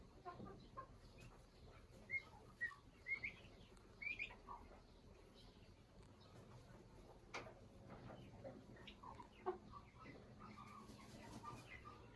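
A hen clucks in a fenced chicken coop in a rural garden, with several soft clucks and brief calls coming at irregular intervals over faint outdoor ambience.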